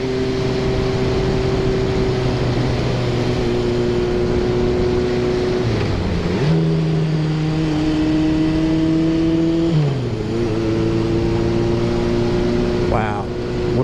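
A 1975 Honda CB750 motorcycle engine held steady around 4,000 RPM in one gear, a continuous close droning hum with brief pitch dips as the throttle eases and picks up, under wind noise; a rider talks over it.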